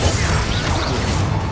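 Accio summoning spell effect from Hogwarts Legacy, a short dense magical whoosh with a mechanical clatter and crash-like burst, loud and steady throughout with no voice.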